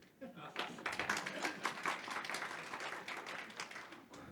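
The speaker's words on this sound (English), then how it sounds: "Please, can you clap hands for me, please?" An audience at a business summit claps hands, a steady patter of applause lasting several seconds, moderately loud, with some voices mixed in.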